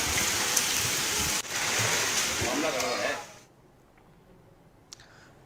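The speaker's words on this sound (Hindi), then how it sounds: "लगातार हो रही मूसलाधार बारिश से शहर पानी पानी हो गया है।" Heavy monsoon rain pours steadily onto waterlogged city streets in Agra, a dense continuous hiss that cuts off abruptly partway through, leaving near silence with a faint splash.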